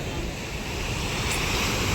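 Sea waves wash onto a beach in a continuous broad roar of surf mixed with wind buffeting the microphone, steady and fairly close throughout.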